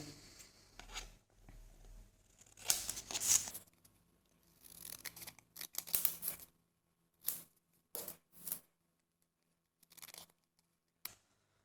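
Scissors cut a paper part for a handmade craft doll in short, separate snipping bursts with pauses between them, close and fairly quiet in a still room.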